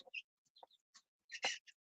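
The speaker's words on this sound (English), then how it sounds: "Small chickens are doing good." Small chicks and a brooding hen cluck softly nearby, a scatter of brief quiet peeps and clucks separated by silence, with one louder squawk near the end.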